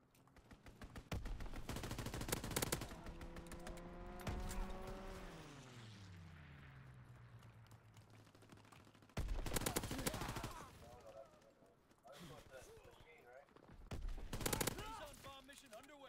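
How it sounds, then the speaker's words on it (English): An aircraft strafing run in a war video game: bursts of rapid machine-gun fire and explosions, interrupted by a loud engine roar that drops in pitch as it passes, with the bursts recurring afterward and distant radio chatter mixed in. "Strafing run inbound."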